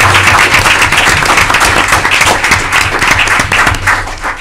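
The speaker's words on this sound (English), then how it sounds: "I think they deserve a big round of applause for entertaining today" Clapping from an audience at a board meeting for high school performers after their entertainment, a loud, dense and steady burst of many hands throughout, with no clear talk over it.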